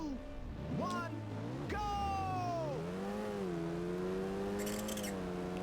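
Tires squealing in a racing game, Ridge Racer on PSP, with long swooping pitch glides as the car drifts through corners under steady engine drone, followed by a brief burst of higher chirps.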